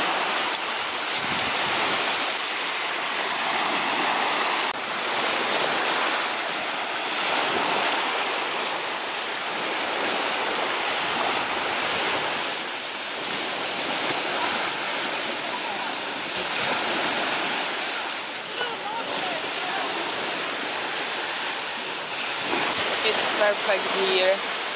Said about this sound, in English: And this is beach.